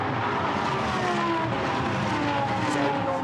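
Lamborghini Super Trofeo race cars sweep past on a circuit in a European championship round, a loud, continuous engine roar with shifting pitch that fills the whole stretch without a break.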